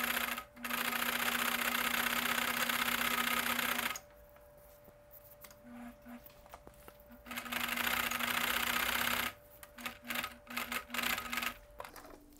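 A home sewing machine stitches elastic onto a homemade respirator mask, running in close bursts of rapid whirring separated by quiet pauses with small clicks and handling sounds, the final stretch broken into short choppy runs.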